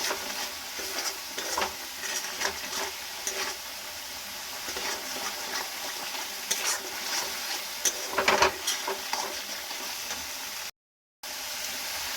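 Masala for a yogurt egg curry being stirred and fried in a pan, a steady close sizzle with scraping and stirring strokes throughout, one brief louder clatter near the end and no talking.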